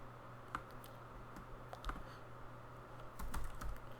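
Quiet typing on a computer keyboard into a search box, with irregular soft key clicks and a few quick bursts near the end against a low background hum.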